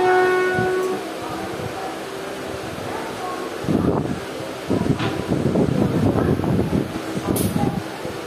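Passenger train running between Azimganj and Cossimbazar, heard from on board with steady rumble and clattering wheel rhythm, wind buffeting the microphone, and a brief horn-like tone near the start.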